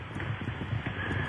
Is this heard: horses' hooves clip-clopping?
yes